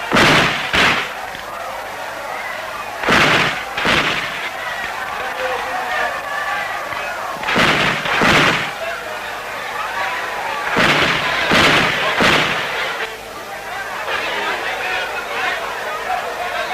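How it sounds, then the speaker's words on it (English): Old hunters fire hunting guns at the funeral of the Mossi emperor outside Ouagadougou, several loud sharp blasts at irregular intervals, some in quick pairs, over a steady murmur of crowd noise and talk. "they fire off their hunting guns"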